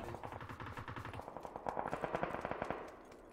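Automatic gunfire in the video game PUBG, rapid bursts of machine-gun shots in a steady rattling rhythm, moderately loud with a slight echo and no talking.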